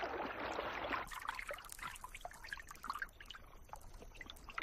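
An archerfish spits a jet of water, heard as a bright splashing gush up close, followed by scattered trickles and drips fading off.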